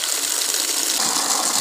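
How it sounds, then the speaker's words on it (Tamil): Water gushes and pours steadily from soaked bitter gourd pieces as they are drained and rinsed in the kitchen, a continuous close splashing flow with no voices. "இப்போ வந்து தண்ணி வடிச்சிட்டு நம்ம மறுபடியும் அலசி எடுத்துக்கலாம்"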